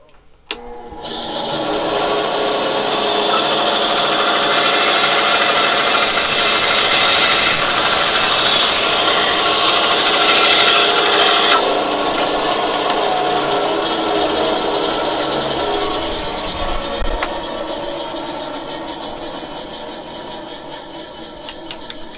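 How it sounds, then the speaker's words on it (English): A bandsaw cuts through a metal fork tine with a loud, steady rasping whine that rises after the start, holds for several seconds, then eases off and trails away as the cut ends. "So I'm just going to cut this with the bandsaw real quick."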